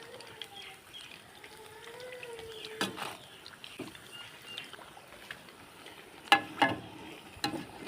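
Aloo besan pakoras fry in hot oil with a faint bubbling sizzle, broken by a few sharp spatula clacks and scrapes near the pan; no voices are heard.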